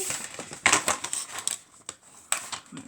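Cardboard being creased and folded for a storage box, a quick series of crisp crackling snaps and rustles close by, with short pauses between the folds.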